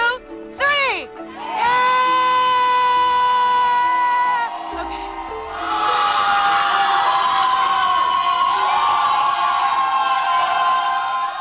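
A group screams together at full volume, starting with a few rising shrieks before many voices join in a sustained, loud, piercing chorus that holds and swells for several seconds.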